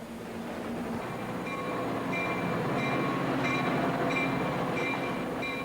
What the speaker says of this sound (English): the northern route, aboard an Amtrak Superliner, with double-decker carriages